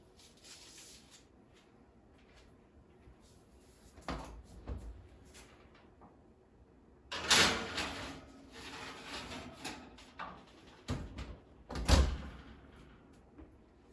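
An oven door opens and shuts as a tray of mini crescent croissants goes in, with a few clunks and a metallic creak, one sharper thud near the end, and quiet kitchen shuffling between them.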